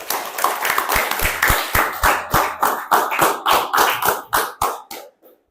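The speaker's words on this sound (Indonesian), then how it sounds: "Tepuk tangan untuk kalian semua." Students clap in a steady unison rhythm, about eighteen sharp, evenly spaced beats at close range, each ringing briefly before the next, then stopping abruptly with a short silence at the end.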